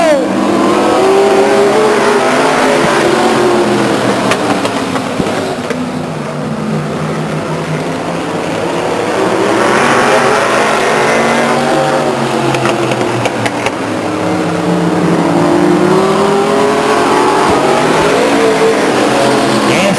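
Race cars roaring off at the start at Stockton 99 Speedway, a pack of engines revving and surging in rising and falling waves, loud and continuous, with an announcer talking over the din.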